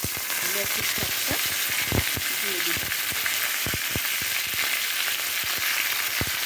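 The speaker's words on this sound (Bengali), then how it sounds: "শাকটা খুব ভালো করে ভেজে নিতে হবে একদম ড্রাই করে ভেজে নিতে হবে" Fenugreek greens fry in a pan with garlic, giving a steady broadband sizzle with occasional stirring scrapes and pops, while a voice speaks over it.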